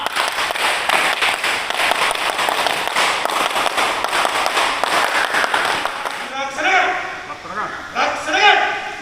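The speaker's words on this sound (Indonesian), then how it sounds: "Tiga kali tepuk pramuka." A scout troop claps in rapid unison, a dense crackling burst of many hands that runs for several seconds, then gives way to shouted group voices.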